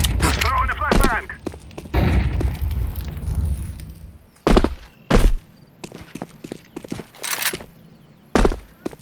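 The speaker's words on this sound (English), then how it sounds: "I'm throwing the flashbang. Throwing the flashbang." Grenade pops and sharp thuds from a flashbang thrown in Counter-Strike 2 on the Inferno map, several loud broadband bursts scattered over game noise and a voice talking.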